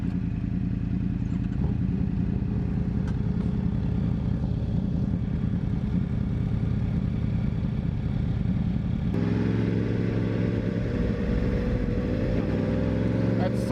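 A motorcycle with a center, lower-hanging exhaust runs steadily while being ridden, its loud engine rumble continuous throughout and shifting to a stronger, more layered tone partway through as the revs change.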